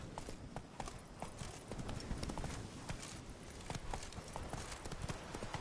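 A horse gallops in The Witcher 3, its hooves beating a fast, even clip-clop rhythm that stays loud and close throughout without pause.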